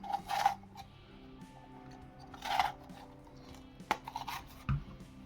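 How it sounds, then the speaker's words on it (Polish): A knife slicing through a bell pepper on a cutting board, with a few scattered crisp cuts and taps spaced over several seconds, heard up close and fairly quiet. "Teraz kroję paprykę."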